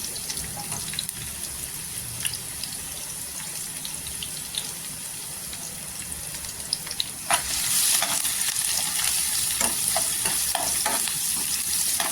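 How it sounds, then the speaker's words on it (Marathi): Garlic and fresh curry leaves fry in oil in a wok with a steady close sizzle, occasional stirring taps, and a louder crackling surge partway through. "इथे फ्रेश कढीपत्ता टाकायचा आणि छान असं तेलावर परतून घ्यायचं."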